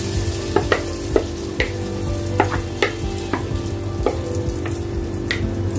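Beaten eggs frying in hot ghee on a lowered flame, a steady close sizzle with repeated sharp spoon taps and scrapes punctuating it throughout.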